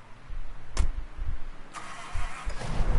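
A car engine cranking and catching in the Mafia video game: repeated low starter turns, then the engine firing and settling into a rough idle, close and alone.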